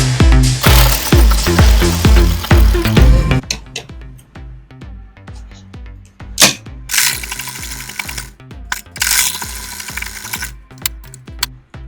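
Sewing machine stitching boning channels into an underbust corset, a loud fast run of needle strokes at first, then slower intermittent bursts and single stitches with mechanical clicks, close by.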